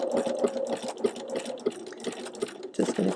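A sewing machine works a locking stitch over satin-stitch tulips, its needle thumping in a quick, regular mechanical rhythm under a steady motor whir, close and moderately loud with no speech.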